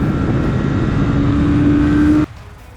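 A 2019 BMW S1000RR motorcycle on a track gives a loud, steady engine roar that rises in pitch as it accelerates, then cuts off abruptly near the end.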